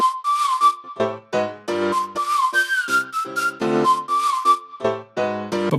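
A whistled melody carries a mix over piano chords, and the piano drops away each time the whistle enters. The tune is clear and prominent, with short piano stabs filling the gaps.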